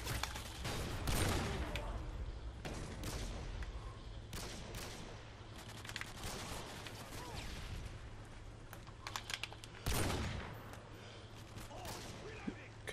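Bursts of video game gunfire, several quick volleys that rise and fall at moderate level, with a tapping clatter like keyboard keys underneath and a player's voice talking over parts of it.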